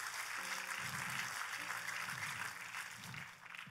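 Church congregation applause, a steady, fairly faint crowd clapping wash with a voice speaking over it at intervals.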